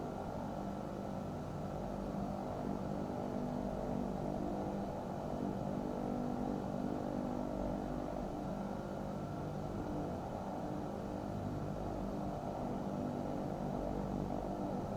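Embraer 110 Bandeirante twin-turboprop plane in a flight simulator game taking off at full power, a steady loud propeller and engine drone running continuously without pause.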